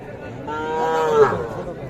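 A single close, drawn-out moo from a young local bull calf at a cattle market rises and falls over about a second, with low crowd murmur around it.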